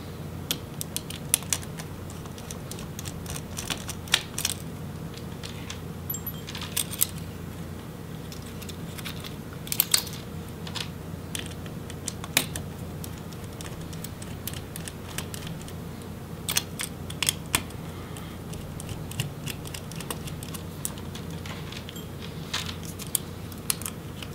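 A Huawei Matebook X Pro laptop has the screws holding its small bottom boards removed, producing scattered close, faint ticks, clicks and light taps from a small screwdriver and parts over a quiet background, with no talking.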